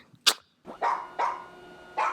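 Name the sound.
dog barking in a film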